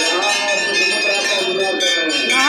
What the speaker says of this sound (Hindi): आप घंटा और घड़ियाल की आवाज़ सुन सकते हैं।